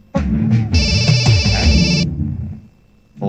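A mobile phone ringtone chimes for a little over a second over a busy background in a Telugu film scene, then stops abruptly, leaving quieter room sound.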